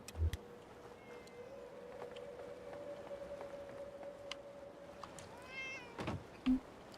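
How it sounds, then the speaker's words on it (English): A cat in Fallout 4's Far Harbor area meows once near the end, a short rising-falling cry over a steady electronic hum and light game ambience, with a few soft thumps around it. "And there's the cat."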